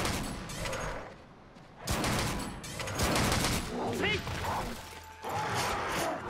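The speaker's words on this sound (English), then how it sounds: "I was kind of hoping that shot would kill him." A shot fires at a sleeping monster in the Monster Hunter 3 Ultimate video game. A sharp burst cuts into dense, busy game sound and is followed by continued clatter and rumble.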